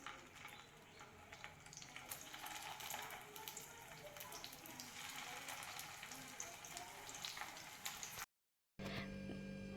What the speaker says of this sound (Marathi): राहिलेले बाकीचे कटलेट सुद्धा आपण याच पद्धतीने फ्राय करून घेऊया.